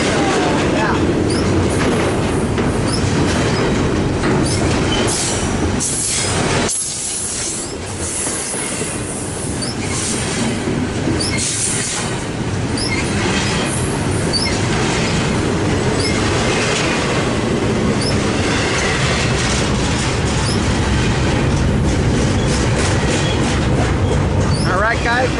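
A port stacker freight train bound for Long Beach passes at close range in Commerce, its wagons rumbling loudly with clacking wheels and intermittent high wheel squeals, a brief dip midway and a voice faintly under the din.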